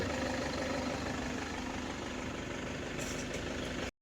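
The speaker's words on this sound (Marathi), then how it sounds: "एकदम सॉफ्ट इंजिन चालू आहे" A Toyota Innova engine idles smoothly after an AC gas refill, a steady even rumble that holds unchanged before cutting off abruptly at the end.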